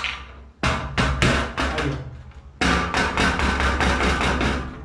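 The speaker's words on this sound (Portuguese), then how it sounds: "Deixa eu pegar o martelinho aqui que é mais fácil." A small hammer taps a shower enclosure wedge into place during a bathroom box installation, giving sharp, close, repeated knocks in two quick bursts with a brief pause between, while a short spoken word is heard.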